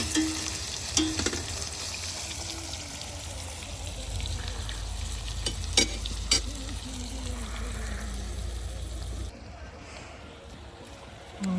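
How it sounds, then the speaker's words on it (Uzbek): Food fries in a cauldron (qozon) over a fire outdoors, likely fish, giving a steady, close sizzle with occasional stirring clatters, then quietening near the end. "Sal qovuraman"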